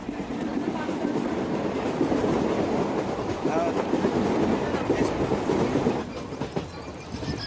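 Indian passenger train running steadily, a loud continuous rumble and rattle of coaches on the rails with faint clickety-clack, easing slightly near the end.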